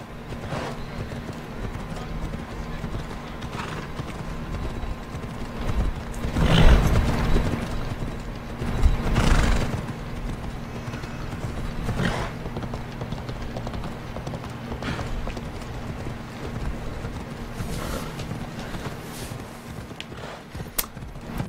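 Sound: horse hooves clip-clopping in a video game

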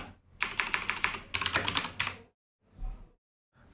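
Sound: typing a comment on a computer keyboard

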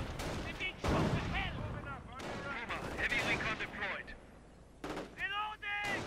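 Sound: artillery fire in a strategy video game

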